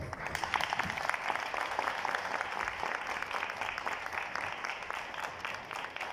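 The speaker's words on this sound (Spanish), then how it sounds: "Les pido un aplauso para Diego Álvarez." A theatre audience claps steadily at the premiere of a musical, a dense patter of many hands sustained for several seconds at moderate, even loudness.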